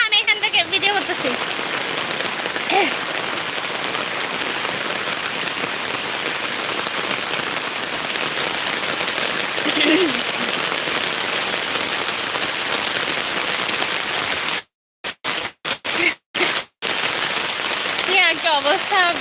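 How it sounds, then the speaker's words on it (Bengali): Steady, heavy rain pours down in a rural village, a dense continuous hiss close by that briefly cuts out near the end, with a voice heard over it. "কি অবস্থা বৃষ্টিতে"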